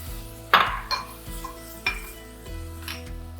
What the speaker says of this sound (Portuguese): Vai sempre mexendo.